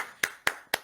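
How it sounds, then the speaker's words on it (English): Three sharp hand claps, evenly spaced and close by, each a crisp slap with a quick decay. "give them a big clap"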